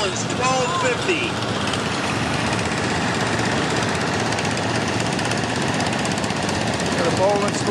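A Bollins 1250 tractor pulling a stoneboat at the Goshen Fair, its engine a loud, steady, rough drone that runs without letup for the whole stretch, with crowd noise and chatter mixed in underneath.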